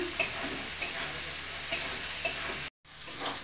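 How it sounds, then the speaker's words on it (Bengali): Garlic and ginger fry in a pan for country-style meat pitha, giving a steady close sizzle broken by several light stirring clicks and a brief gap near the end. "এই যে আমার রসুন আদা সব ভাজা হয়ে গেছে।"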